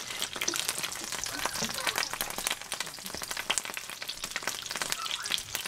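A cherry-filled burrito fries in hot oil, giving a dense, steady crackle of sizzling and popping that stays close and loud throughout, with no voices.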